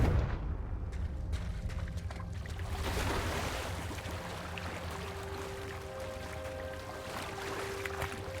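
A Confringo fire spell from Hogwarts Legacy erupts in a dense, rumbling blast, swelling into a sustained roar with crackling debris over a steady low ambient drone.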